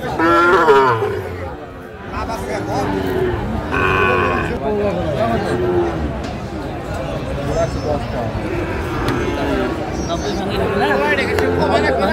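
Several young Sahiwal bull calves moo repeatedly nearby on a farm, the calls overlapping with people chatting and talking in the background.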